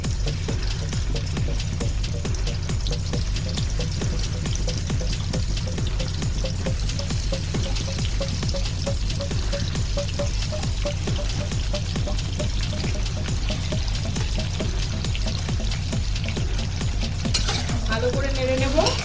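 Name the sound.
okra frying in hot vegetable oil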